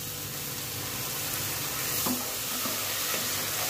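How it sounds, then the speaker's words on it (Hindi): Tomato puree sizzling steadily in a pan of spiced masala with turmeric, coriander and crushed red chili, with a spoon stirring through it, a constant close frying hiss. "टमाटर को भी अच्छे से भून लेना है।"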